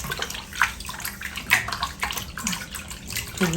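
Pork intestines being squeezed and rubbed in a basin of water, producing close, continuous sloshing and splashing with wet squelches in an uneven rhythm, without speech.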